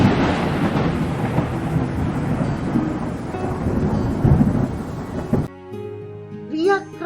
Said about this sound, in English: And there was a flash of lightning followed by thundering.